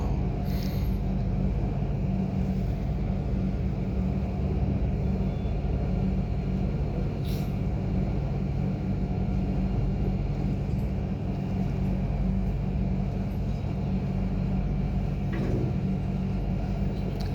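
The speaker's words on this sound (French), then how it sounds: "Le trafic." Continuous road traffic rumbles loudly and evenly, a dense low roar of passing vehicles with only faint higher hiss now and then, and no voices.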